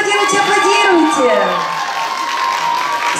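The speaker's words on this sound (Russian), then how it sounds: "Аплодируйте, аплодируйте, аплодируйте." An audience at the Solaris Oriental Dance Festival 2018 applauds and cheers, a steady loud roar of clapping with high whoops and shouting voices rising over it throughout.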